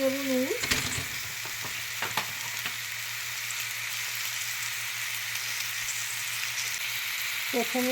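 Onion and tomato fry in a pan for an aloo-phulkopi vegetable dish, giving a steady close sizzle throughout with a few sharp scraping stirs near the start; a voice speaks briefly at the very beginning and end.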